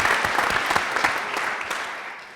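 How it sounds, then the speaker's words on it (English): Audience at a conversation event clapping briefly, a moderately loud burst of scattered claps that thins and fades out over about two seconds. "you can clap for that"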